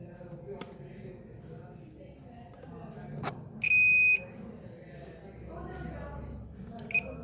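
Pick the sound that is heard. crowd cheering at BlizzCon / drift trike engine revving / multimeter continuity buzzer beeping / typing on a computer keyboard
multimeter continuity buzzer beeping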